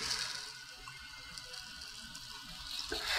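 Soda lime scrubber granules (Sofnolime 797) pour steadily into a rebreather scrubber cartridge with a soft, continuous gritty hiss that swells louder toward the end.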